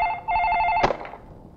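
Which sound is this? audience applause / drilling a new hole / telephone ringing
telephone ringing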